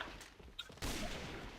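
Rifle fire from an assault rifle such as an AUG A2 Commando, SG556 or FR-F2 in the online shooter Alliance of Valiant Arms, a sharp burst of loud shots followed by a sustained noisy roar.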